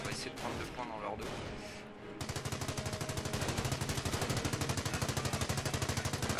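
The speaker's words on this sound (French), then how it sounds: "la mitrailleuse lourde fait son job" A heavy machine gun in the Company of Heroes game fires a long sustained burst of rapid, evenly spaced loud shots, preceded by a couple of seconds of mixed battlefield noise and a voice.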